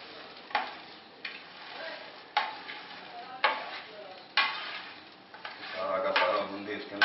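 Cooked boondi mixed into hot sugar syrup in a pan for boondi ladoo, a spoon scraping and knocking in repeated strokes with soft wet stirring between them, while a voice speaks over it.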